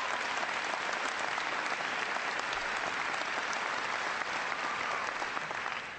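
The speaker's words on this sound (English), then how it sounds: "Give Karen a big round of applause" A town hall audience in Nashua, New Hampshire breaks into sustained, dense applause, a steady roar of many hands clapping at full volume without a break.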